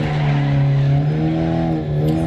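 A rally car in the Dirt Rally video game slides with understeer, its loud, steady engine drone holding a constant pitch with a faint scrub of tires beneath.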